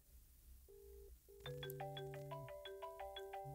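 Electronic phone ringing on an internal call between two extensions of a private PBX telephone system, a short tonal chirp pattern repeating in quick, bright, stacked beeps, fairly close and clear with no talk.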